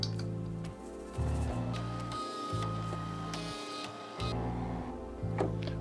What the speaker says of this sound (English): I'm going to do a trace